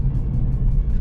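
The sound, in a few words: Alfa Romeo Brera 3.2L V6 exhaust rumbling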